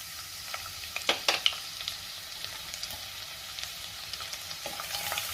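Cumin, cloves, black pepper, cinnamon and crushed garlic fry in hot oil in a pan, giving a steady close sizzle with scattered crackles and a few sharper pops early on, and no talking.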